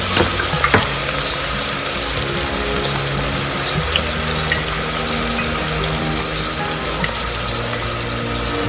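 Chopped whole onion frying in a pan as the base for pulao, a steady close sizzle with occasional stirring scrapes and clinks throughout, no talking.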